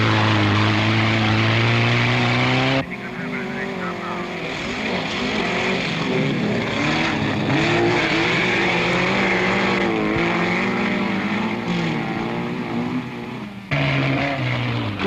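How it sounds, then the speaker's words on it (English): A stripped-out 1970s saloon car races at an autocross event, its busy engine droning loudly with a strong, wavering pitch. Two abrupt shifts in tone break the steady roar. "The cockpit of this saloon, denuded of luxury, echoes the busy engine"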